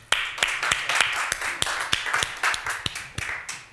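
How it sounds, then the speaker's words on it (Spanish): A small audience at a science award ceremony clapping in a loose, uneven rhythm, sharp distinct claps close by with no talking. "Así que vamos a dar un aplauso."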